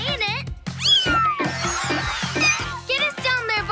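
A cartoon kitten lets out several high, bending meows in quick succession, close and clear, mixed with children's voices talking excitedly around it.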